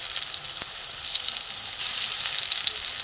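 Shrimp-shell fritters spiced with mixed masala fry slowly in oil over a low gas flame, giving a steady close sizzle with scattered pops and one brief knock, no voices.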